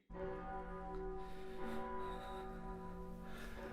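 Church bell chimes ring out in an old-fashioned dramatized setting, a steady sustained tone with strong layered overtones that hangs and blends throughout, fairly loud and close with no talking over it.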